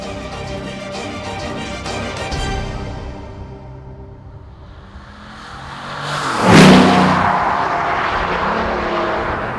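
A Bugatti Veyron Vitesse on the road, its engine note rising and falling, then a loud rushing surge as it accelerates hard and sweeps past, leaving a sustained roar that settles back to a steady drone.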